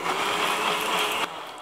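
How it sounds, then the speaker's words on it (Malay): A kitchen blender grinds ingredients for a prawn noodle broth, a loud, steady whirring motor that runs for about a second before cutting off abruptly. "Untuk mi udang ni, kita nak buat kuah dia, kita blender sampai halus."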